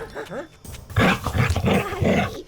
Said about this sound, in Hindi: अबे वो देख, वहाँ डॉगी आ गया।